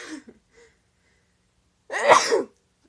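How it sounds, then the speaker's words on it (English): A single loud sneeze bursts out after a brief quiet stretch, preceded by a couple of faint breathy sounds. "I'm gonna sneeze."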